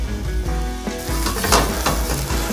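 Onions and sugar sizzle and caramelize in a hot pan for beef rolls, a loud, close, continuous frying hiss with occasional stirring scrapes and clinks.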